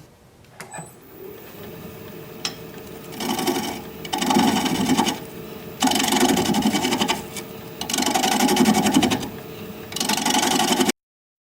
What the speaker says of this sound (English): I'm going to be turning at 700 RPM, 5/8 inch bowl gouge, mask and face shield on.